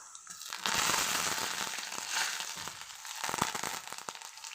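Curry leaves dropped into hot oil with peanuts for potato poha, a loud burst of sizzling and crackling that settles into a steady fry with scattered pops.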